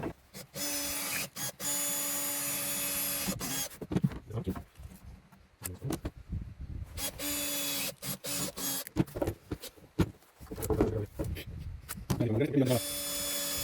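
A drill bores holes in parts for a homemade automatic chicken waterer, running in loud, steady whirring bursts that stop and restart several times, with short gaps of quieter handling and voices in between.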